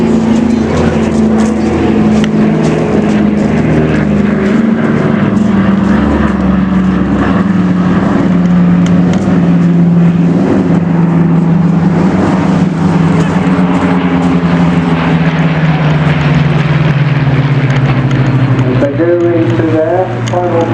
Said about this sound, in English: coming in from the right to Dakota, to take over the skies as the Spitfires pass alongside